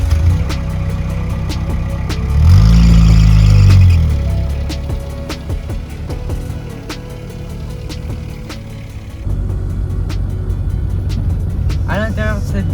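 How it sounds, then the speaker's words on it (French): A 1.7 litre Peugeot 205 engine drones along while driving. It swells briefly in a rising rev, then settles into a steady low rumble under a speaking voice. "Seul le moteur reste un peu bruyant, mais pas étonnant pour une voiture de cet âge-là."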